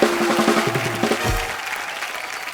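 A studio comedy-show audience applauds to welcome singers. A loud burst of clapping with some musical fanfare fades over about a second and a half into quieter room sound.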